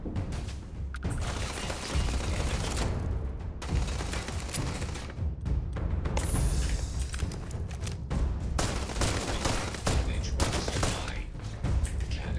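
Sustained gunfire from a companion's weapon in the sci-fi video game Starfield, with loud rapid bursts and booming shots repeating through most of the stretch amid other combat noise.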